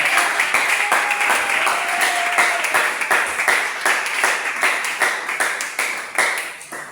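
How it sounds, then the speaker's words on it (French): Congregation applauding in church during a pastor's installation service, a full round of many hands clapping with a rhythmic pulse, loud and close, lasting several seconds. "Et on peut applaudir pour la gloire du Seigneur."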